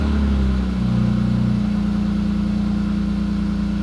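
A BMW E46 330i engine, freshly back together after a Vanos rebuild and valve cover gasket replacement, idles low and steady up close with a continuous, even hum and no revving.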